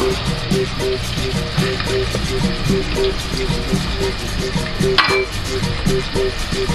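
Yellow bell pepper frying in a pan for Bahian moqueca gives a loud, close, continuous sizzle, broken by regular scraping strokes of stirring.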